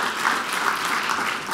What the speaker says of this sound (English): give the council members a round of applause for your service